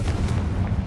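A Confringo fire spell explodes in Hogwarts Legacy, a short, heavy, rumbling boom with a roaring low-end burst at close range.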